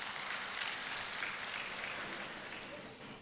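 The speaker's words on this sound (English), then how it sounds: "Another round of applause for him, please." A summit audience gives steady applause for the Deputy Governor, a continuous wash of clapping that fades slightly toward the end.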